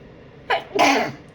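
A single close sneeze, a short sharp intake burst followed by a louder explosive release.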